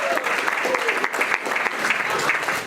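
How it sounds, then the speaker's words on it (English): Audience applause at a presentation skills training seminar, a brief burst of uneven clapping from a room of attendees, fairly close and lively, with a few voices mixed in. "Give yourselves a round of applause for that."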